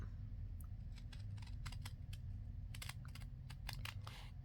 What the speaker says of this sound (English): I cut it with my scissors